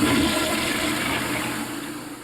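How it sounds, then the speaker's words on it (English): An ultra-low flush toilet flushes with a steady rushing, gurgling wash of water that stays loud and close throughout and fades slightly toward the end, with no talking over it. "Toilets flush in Vancouver millions of times every day"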